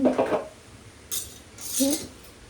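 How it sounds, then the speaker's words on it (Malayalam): A spoon stirs chattipathiri mixture in a pan, making a few sharp metallic clinks and scrapes in short bursts with quiet gaps between them, close and moderately loud. "എന്നിട്ട് നമ്മളത് ഇങ്ങനെ ഇളക്കി കൊടുക്കണം."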